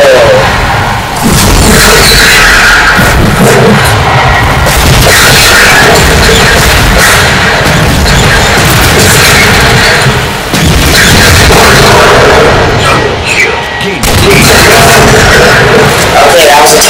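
Tank explosions in the Halo 4 video game, heavy booms and crashes over dense game noise, with a voice talking throughout.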